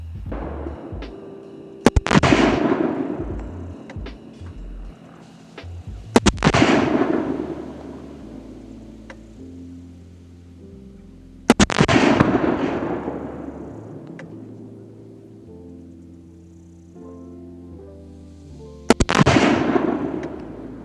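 Four loud M4 rifle shots fired from a barricade at an outdoor range, each a sharp crack followed by a long rolling echo, spaced several seconds apart with quiet between them.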